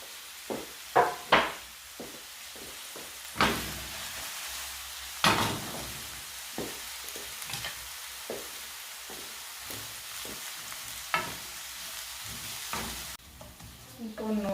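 Onion and garlic hit hot oil in a pan and fry with a continuous sizzle, while a spoon stirs them with sharp clinks and knocks against the metal at irregular intervals, close and without speech.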